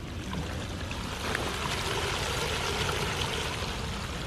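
Water from a sump pump discharge pours out in a steady rushing flow, like a small stream, at moderate level and running continuously, with no voices.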